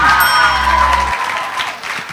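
Studio audience on a malaria quiz show applauds a correct answer, a short burst of clapping that follows a brief chime-like tone.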